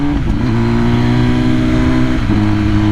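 Engine of a 2021 MV Agusta Rush motorcycle with a flash tune, revving steadily under acceleration with a brief dip as it shifts, loud and close for a few seconds with no talking.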